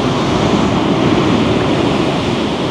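Rough, storm-churned sea waves breaking at Porto Katsiki Beach on Lefkada, Greece, a loud continuous roar of surf with wind noise, no pauses or talk throughout.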